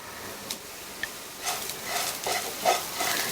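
A spatula scrapes and stirs a spicy carrot fry with coriander leaves in a hot pan. Soft, irregular scraping strokes sound over a faint sizzle, with no talking.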